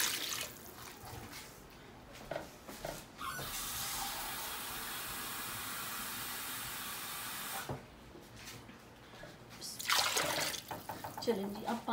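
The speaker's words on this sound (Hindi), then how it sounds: "अब हम इसमें पानी डालेंगे।" Water pours in a steady, loud stream into a pot of fried chicken for Pakistani chicken pulao, running for several seconds and then stopping, with kitchen clatter before and after.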